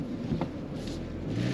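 A 2023 Hyundai Tucson N Line AWD rolls slowly around a parking lot in normal drive mode, giving a low, steady engine and road rumble that stays close and even with no talking.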